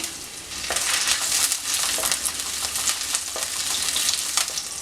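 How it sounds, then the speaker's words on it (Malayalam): Ginger, garlic and green chilli crackle loudly in hot oil, a dense close sizzle with repeated spoon scrapes as they are stirred, no one speaking. "നമ്മളിവിടെ എടുത്തു വെച്ചിരിക്കുന്ന ഇഞ്ചിയും വെളുത്തുള്ളിയിട്ടൊന്ന് ഇട്ടൊന്ന് മൂപ്പിച്ചെടുക്കാം ഇനി പച്ചമുളക് ചേർത്ത് കൊടുക്കാം"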